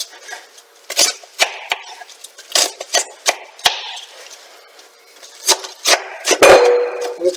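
A knife shreds cored cabbage on a wooden cutting board for Macedonian cabbage roll soup, making close, loud, irregular chopping knocks in quick bursts with short pauses between them.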